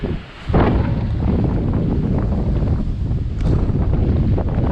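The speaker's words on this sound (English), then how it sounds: "That wind is strong." Strong wind on a seaside road at Hac Sá, Coloane, Macau buffets the microphone in loud continuous roaring gusts, with a brief lull near the start.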